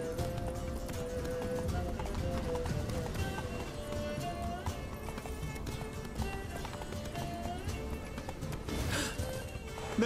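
Hooves of Roach the horse pound continuously at a fast gallop in The Witcher 3, loud and near, mixed with sweeping game music and dialogue running across it.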